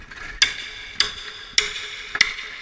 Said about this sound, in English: I'm going to use this method again where I pound that in and then use my hammer and separate.